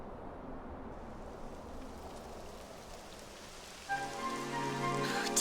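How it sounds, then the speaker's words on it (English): Rain falling in the video game Dragon Quest XI, a steady hissing downpour of moderate loudness, joined near the end by background game music. "It would have to go and start raining, wouldn't it?"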